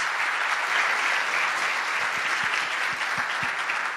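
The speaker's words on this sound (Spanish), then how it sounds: "El agradecimiento y el aplauso" Warm, sustained applause from a conference audience after a talk at a national clinics meeting, a steady full crowd of clapping with a few sharp, distinct claps near the end, no speech over it.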